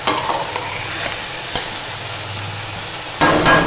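Curry (salan) of potato and aubergine cooking in a pot, a loud continuous bubbling, sizzling wash with a few faint knocks, ending in a brief louder clatter, no talk.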